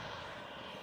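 A Southwest Airlines airplane, the Maryland Heritage livery, taxis at BWI airport with a steady, moderately distant engine hum and broadband roar, no voices.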